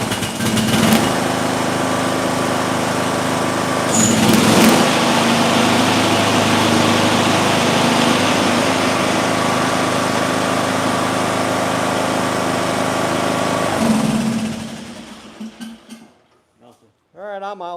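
Small engine running at a steady, loud, close-up drone during a coil air gap test, with a brief surge partway through before it dies and falls silent; people talk faintly near the end.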